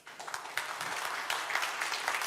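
Audience applause fills a hall at the Oppo Reno 2 smartphone launch event, a steady patter of many hands clapping that swells slightly over a couple of seconds.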